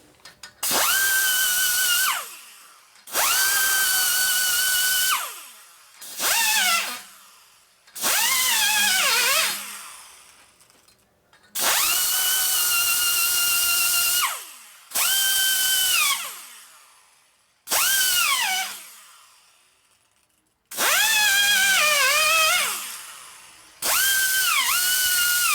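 A power tool grinds a 1950 Harley-Davidson Panhead rocker arm in loud whining bursts of a few seconds each, about ten of them, separated by short pauses as the tool spins up and winds down.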